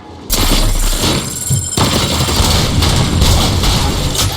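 Heavy gunfire from the Robocop Rogue City video game erupts suddenly and stays loud, a dense, sustained barrage of shots with booming low impacts, close and continuous.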